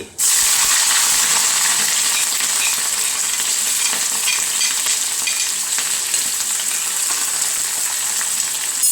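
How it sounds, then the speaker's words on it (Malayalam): Oil sizzles and crackles loudly and steadily as green chilies, bird's eye chilies and chopped ginger fry, a dense hiss with scattered pops and spits throughout. "കാന്താരി ഇട്ടിട്ടുണ്ട് അതുകൊണ്ട് പൊട്ടിത്തെറിക്കും സൂക്ഷിക്കണം"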